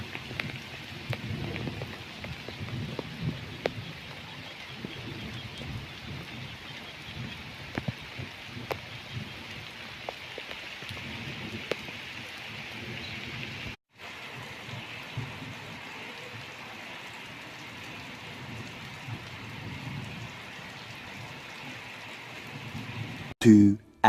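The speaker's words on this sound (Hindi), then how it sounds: "हुण बारिश शुरू थी गई है" Steady rain patters on surfaces outdoors at a farm field, a soft continuous hiss with scattered drops, quiet and even throughout, with one brief dropout midway and a short noise at the end.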